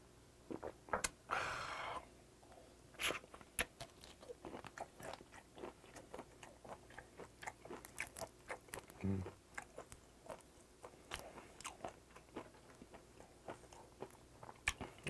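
Raw whiteleg shrimp sashimi is bitten and chewed up close, with repeated crisp crunches in an irregular rhythm and a quiet voice speaking briefly.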